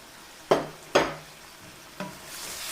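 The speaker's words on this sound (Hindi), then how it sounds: "ठीक है जी, इसको मिक्स करते हैं।" A spoon stirs salt, red chili, dried coriander, cumin powder and turmeric into mutton chanp in a pan: three close scraping strokes with a faint sizzle underneath and no voices.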